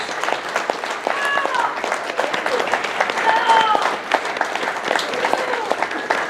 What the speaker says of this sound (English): please give yourselves a round of applause for showing up